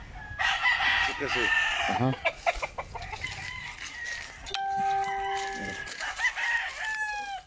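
A rooster crows repeatedly at a gamecock breeding farm in Guamúchil, Sinaloa, with loud, drawn-out calls close by while someone talks over and between them.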